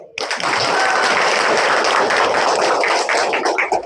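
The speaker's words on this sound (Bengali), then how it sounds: "আক্তার স্যারের জন্য একটা হাততালি দাও।" A classroom full of students claps together for their teacher at a class party, a dense, loud burst of applause that starts abruptly and holds steady for several seconds before thinning slightly at the end.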